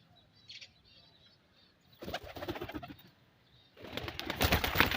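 Pigeons flap their wings in two loud bursts of fluttering, with a faint bird call and quiet room noise beforehand.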